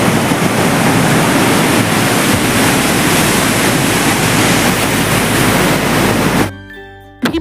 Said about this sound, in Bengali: জলের প্রচন্ড তোড় এখানে।